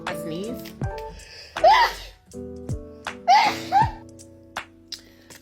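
A woman fumbling with her nose ring breaks into a sneezing fit, with sharp, loud bursts and gasping breaths in uneven succession, close to the mic and mixed with vocal sounds.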